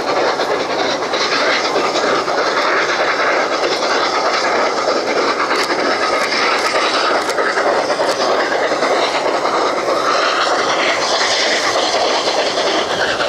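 Flying Scotsman steam locomotive and its train running past at Ribblehead in Yorkshire, a loud continuous rumble and rattle of wheels and carriages, with faint clicks over the steady roar.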